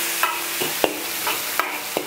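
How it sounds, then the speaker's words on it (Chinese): Sichuan peppercorns, star anise, dried chilies, scallion and ginger are stir-fried in hot oil in a wok for a spicy hot pot dish, giving a steady sizzle broken by repeated scraping strokes of the spatula. "热油开始炒，炒花椒、八角、干辣椒、葱姜"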